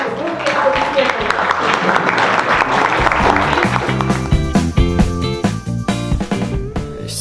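An audience applauds at a business coaching club event, with dense, loud clapping blended with music and a voice speaking over it.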